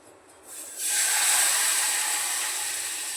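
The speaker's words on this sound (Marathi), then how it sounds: "आता वाफ येते" A steady hiss of steam swells up suddenly after a quieter start, then holds loud and even, like vapour escaping from a pot on the stove.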